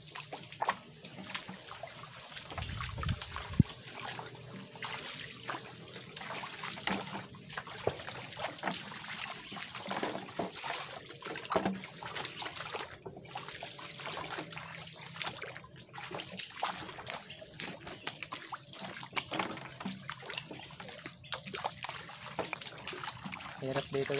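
Shallow stream water trickling and splashing steadily over a rocky bed, continuous and fairly close, with brief low thumps early on and no clear talk.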